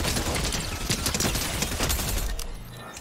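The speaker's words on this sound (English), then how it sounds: "Now, let's look at a time to kill at 20 meters out of a blue submachine gun." A blue submachine gun firing in Fortnite, a rapid, loud, continuous stream of shots for about two and a half seconds before cutting off abruptly.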